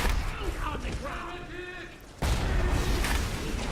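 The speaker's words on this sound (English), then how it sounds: "Dude, stop with the rockets." Rocket turrets firing in the BioShock video game, with loud booming blasts and a sudden heavy explosion partway through, set against dense game noise, with a voice talking over it.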